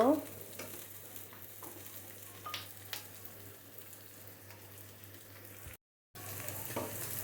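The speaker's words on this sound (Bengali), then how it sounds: "চিংড়ি মাছ পেঁয়াজ সব কিছু হয়ে গেছে ভাজা ভাজা" Prawns, onion and green chillies fry in a pan, giving a steady close sizzle broken by occasional stirring scrapes, with a brief silent gap near the end.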